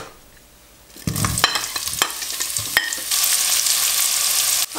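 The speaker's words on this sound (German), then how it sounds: "Tue erstmal die Zwiebel anbraten." Onions frying in roughly 50 to 60 ml of oil in a pot, a soft hiss breaking into loud sizzling as they go in, with stirring scrapes and then a steady crackle.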